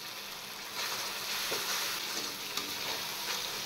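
Spice paste of sesame, melon seeds and green chili hitting hot oil with onion, a continuous soft sizzle that brightens after a second and keeps crackling steadily, close up.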